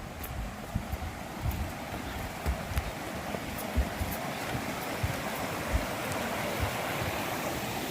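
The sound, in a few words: river flowing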